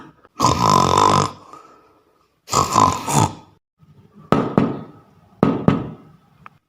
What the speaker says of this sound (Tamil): கதவு தட்டுற சத்தம் கேட்குது